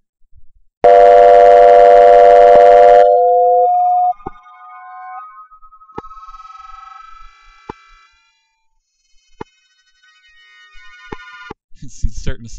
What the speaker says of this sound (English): It's starting to sound like a siren already, right?